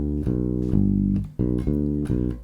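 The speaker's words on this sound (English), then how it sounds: "we can try a typical bass line rhythm that sounds like this." An electric bass plays an arpeggio pattern in a typical bass-line rhythm. Short, plucked, low notes repeat in a steady bouncing groove, each note clearly separated, with no voices.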